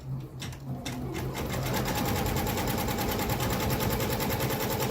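A Janome MB4 embroidery machine stitches an applique design with a rapid, steady mechanical chatter that runs on continuously at a moderate level after a few hesitant starting stitches.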